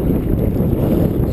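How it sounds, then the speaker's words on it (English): Brief, close, rushing water and wind noise as a Sea Eagle FastTrack 385ft inflatable kayak is paddled quickly, a loud, continuous churning wash. "Perhaps you'd like to know what happens if you try to paddle quickly"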